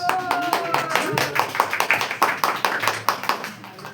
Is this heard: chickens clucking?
no